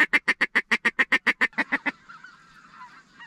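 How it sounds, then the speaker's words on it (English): Geese feeding in a field alongside ducks give a rapid, even run of about a dozen loud, close honks that slow and fade into softer, scattered calls. "some of the ducks from the pothole hunt that we had targeted for tomorrow morning ended up feeding here with these geese"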